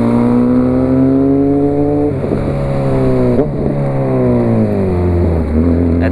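Honda CB 1000R motorcycle engine revving hard close by, a steady loud drone with rising and falling pitch sweeps as the throttle is blipped repeatedly.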